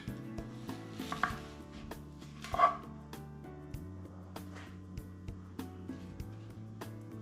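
Soft, steady knife taps of a Vidalia onion being chopped on a board, a dozen or so light, evenly spaced cuts over a low background hum, with a dog barking faintly once or twice.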